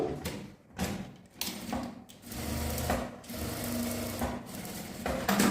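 Up close, a sewing machine stitches fabric joined to its lining for a small handmade souvenir, running in short bursts with brief pauses and fabric handling between them.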